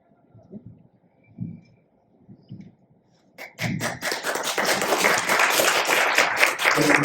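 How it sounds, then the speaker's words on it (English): An audience at a panel discussion on Black maternal health breaks into applause after a few quiet taps and thumps, with steady clapping rising and holding to the end. "There's a little bit of our applause by somebody"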